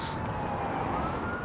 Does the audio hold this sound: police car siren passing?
yes